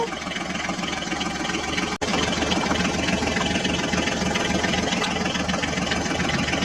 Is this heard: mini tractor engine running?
yes